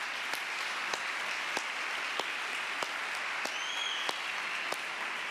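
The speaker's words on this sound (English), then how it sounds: "How about a big round of applause for all of them?" Parish congregation at a Sunday Mass applauds the ministers, lectors, ushers, sacristan and choir, a steady, even wash of clapping heard from a distance, with a few sharper individual claps standing out.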